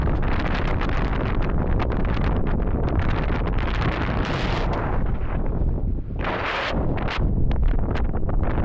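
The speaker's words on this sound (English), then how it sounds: "The tent is literally collapsing in on me. It's that windy." Strong wind battering a tent pitched in sand dunes, a loud continuous roar with heavy gusts, flapping fabric and buffeting blasts against the microphone throughout.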